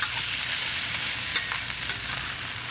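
Scallion whites sizzle steadily in a hot pan while being stirred, a continuous bright frying hiss with a few scraping accents and no talking.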